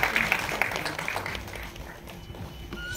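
An audience claps at the trailer launch of Kangana Ranaut's film Emergency. Crisp, fairly close claps patter unevenly, loudest at the start and gradually thinning out.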